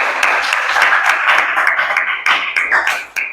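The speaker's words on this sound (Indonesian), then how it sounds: "boleh kasih tepuk tangan untuk Dian" A small classroom of students claps for a classmate named Dian: close, uneven hand claps in a loud burst that thins out and fades toward the end, with no talking over it.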